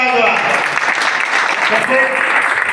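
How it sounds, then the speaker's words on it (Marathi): An audience at a Marathi prize ceremony claps in a dense, continuous burst of applause. Voices are mixed in with the clapping. "जोरात टाळ्या वाजवा."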